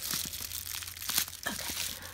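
Crinkly plastic packaging on Red Velvet K-pop merchandise being torn and ripped open close up, a continuous rustling crackle with sharper rips and crunches throughout.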